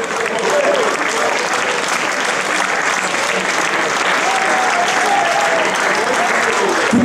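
A crowd at a youth football tournament prize ceremony claps as a team receives its cup. The loud, dense applause is sustained and steady throughout.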